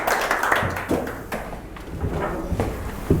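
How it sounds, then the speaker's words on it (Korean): Scattered clapping from a small audience congratulating someone on passing the written exam for the 126th Fire Protection Professional Engineer licensing test, with a few louder individual claps standing out over steady room noise. "큰 박수 한번 드립니다."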